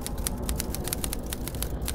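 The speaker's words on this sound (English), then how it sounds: "Wait, could you please stop typing, please?" Rapid, steady keystrokes on a typewriter, a dense run of crisp clacks over a low background hum, close and continuous with no voices.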